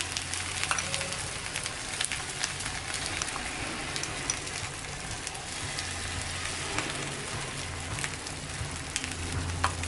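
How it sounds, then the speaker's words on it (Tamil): Egg yolk poured into a hot pan on low heat for a spicy egg roll, giving a continuous crackling sizzle with light scraping and stirring throughout. "இப்போ அடுத்தது நம்ம மஞ்சக்கரு ஊற்றிப்போம்"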